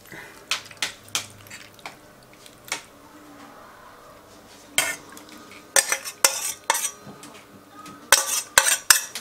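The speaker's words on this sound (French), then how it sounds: "Je mélange un petit peu." A utensil stirs food in a pan, scraping and clinking against the metal in sharp, uneven bursts, sparse at first and then quicker and louder toward the end, with soft background noise between the knocks.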